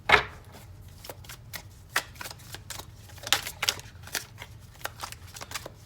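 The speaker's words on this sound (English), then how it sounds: "I am seeing the cards that are flipping over in the deck" A deck of tarot cards is shuffled, giving a steady patter of crisp riffling flicks and soft card snaps, close and moderately loud, over quiet room noise.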